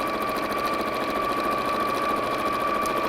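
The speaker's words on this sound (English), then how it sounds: "So I'm just going to sew straight across the top of there." A sewing machine stitches straight across the top of a fabric bag, a steady mechanical whir with a fast, even rhythm and constant loudness throughout, with no talking.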